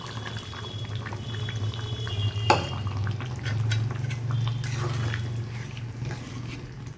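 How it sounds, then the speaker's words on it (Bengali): Milk is poured into simmering Bengali vegetable curry (dudh shukto) in a pot, making a steady low bubbling and pouring wash, with a sharp clink of utensil against metal near the start. No one speaks. "তো এবারে দুধটা দেবো।"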